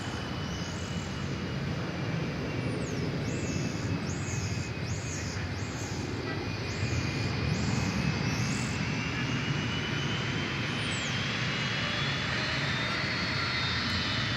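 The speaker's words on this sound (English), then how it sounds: "You don't see too many planes head up into the sky at that angle." An airliner takes off at DFW Airport, its jet engines producing a steady, broad roar that holds for the whole stretch, with faint bird chirps high above.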